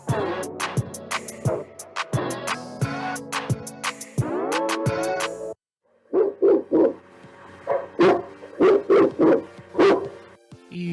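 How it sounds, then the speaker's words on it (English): A dog barks in quick bursts, some lower and some higher and yappy, with a short pause partway through before a second run of barks. No one speaks. "Yeah, that's the sound of today's business community. It's a dog-eat-dog world"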